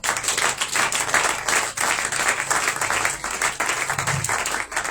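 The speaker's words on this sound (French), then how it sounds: "Est-ce que quelqu'un peut acclamer le Seigneur Jésus-Christ?" A church congregation at a Shavuot–Pentecost service claps and applauds for Jesus Christ, loud crisp rhythmic clapping with a sharp beat running throughout, brief shouts mixing in.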